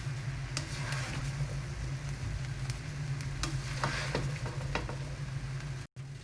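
Chicken fried rice with green onion is stirred and tossed in a hot pan, giving a steady close sizzle broken by scraping and clinking hits, then a brief cutoff near the end.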